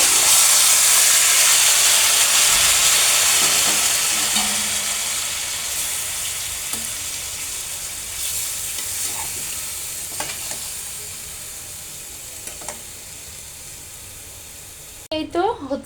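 Marinated mango being fried and stirred in a pan gives a loud, steady sizzle and hiss with scattered stirring scrapes, easing slightly over time before a brief clatter at the end.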